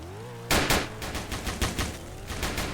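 Gunfire in the Roblox game Emergency Hamburg: a burst of sharp shots in quick, slightly uneven succession, loud and close, with no talking over them.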